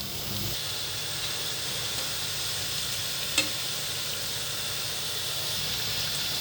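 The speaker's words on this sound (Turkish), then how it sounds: "Yağda böyle kızarıyorlar." Pieces of floured dough fry in hot oil with a steady, even sizzle and hiss throughout, plus one small pop partway through and no voices.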